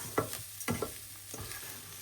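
Risotto rice frying in oil and butter, with a few distinct stirring scrapes and clicks over a soft, steady sizzle, close by and fairly quiet.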